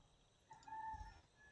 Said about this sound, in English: I love how I hear an actual fucking rooster in your background.